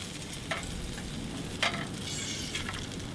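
Mackerel fillet frying in a hot pan, a steady low sizzle with a few brief crackling pops, close and fairly quiet, with no talking.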